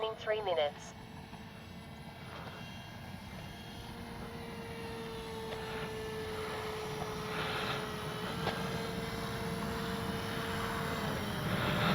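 A Skynetic Dragonfly RC plane flying overhead, a thin electric motor whine that holds a steady pitch, gradually growing louder against a background of wind and outdoor noise.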